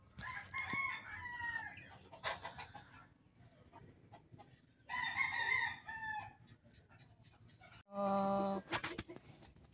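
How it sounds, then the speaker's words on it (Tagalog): Pet chickens on a Philippine family farm cluck and a rooster crows loudly near the end, several calls in separate bursts close by, with little else around. "Yan ang alaga namin manok."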